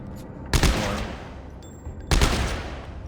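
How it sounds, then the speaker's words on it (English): Two loud bursts of rapid gunfire from a quick-firing gun in the video game Dead Space 3, each roughly a second and a half of dense shooting with a short pause between. "So we'll go back to the game and shoot a few more rounds."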